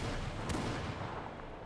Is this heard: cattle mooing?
no